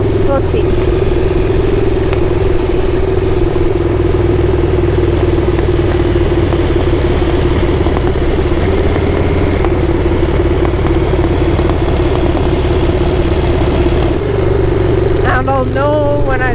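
A Harley-Davidson Shovelhead motorcycle engine runs on a test ride with a new oil pressure switch fitted, a steady loud low rumble and mechanical clatter throughout, with a rider talking over it.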